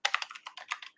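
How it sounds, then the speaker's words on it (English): Rapid typing on a computer keyboard, a quick, uneven burst of close, crisp key clicks lasting about a second with no talking. "Okay, so I might just type that in"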